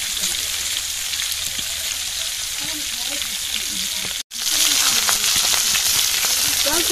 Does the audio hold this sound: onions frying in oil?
yes